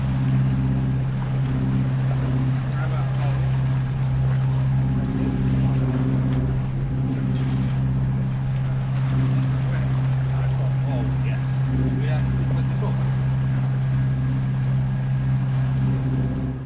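A sailboat motors across a windless Bay of Biscay, its engine giving a steady, loud low drone throughout, with faint water wash and a little wind rumble on top.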